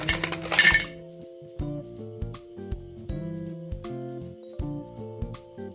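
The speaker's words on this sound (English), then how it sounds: "I would use these rocks in the bottom as a filler." Decorative filler rocks drop into a tabletop fire bowl, giving a series of sharp, ringing clinks and clatters, a busy burst at first and then scattered single knocks spaced out, close and fairly loud with no talking.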